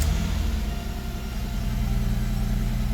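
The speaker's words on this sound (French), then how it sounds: "on va démarrer le moteur" A Jaguar X-Type 3.0L V6 engine runs at a steady idle after starting, a close, even low hum with harmonic drone and no speech.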